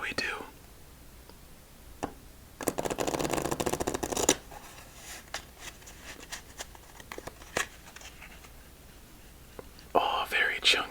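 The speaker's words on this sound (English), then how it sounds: "Let's shuffle this up and see how we do." A deck of playing cards is riffle-shuffled up close during a quiet solitaire game: one dense, crisp burst lasting about a second and a half, with soft whispering and light card handling before and after.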